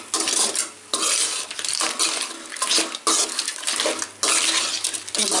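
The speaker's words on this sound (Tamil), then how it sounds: "இந்த மசாலாவெல்லாம் கலந்து கொஞ்சம் நேரம் வந்து தண்ணி ஊற்றாமலே வேகட்டும்" A spoon scrapes and clinks in a pan while spices are stirred into a village-style sea crab masala curry, with rhythmic bursts of scraping broken by brief pauses.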